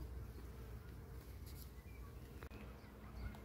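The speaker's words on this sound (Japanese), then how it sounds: "ミツバチが大量にいますよ、この植物。 なぜでしょうか。 ブンブン言ってますね。" Honeybees buzzing around a flowering plant beside a lake in Belgium, a faint, steady insect drone running through the whole stretch with soft outdoor ambience and no talking.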